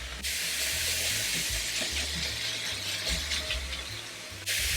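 Pork, chicken and blanched dried tofu sizzle steadily in a hot pan, a loud continuous frying hiss that runs almost the whole time, with a brief break near the end.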